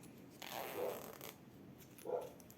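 Two short zipper pulls, a longer rasping slide followed by a quicker one after a pause, close and fairly quiet.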